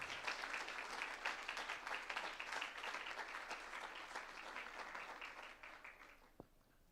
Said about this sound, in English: A big round of applause to ourselves.